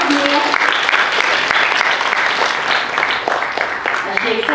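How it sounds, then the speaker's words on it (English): Loud, steady applause from a school assembly crowd honouring a Year 6 award winner, dense clapping sustained throughout with no pauses. "Let's give her a round of applause, Mia."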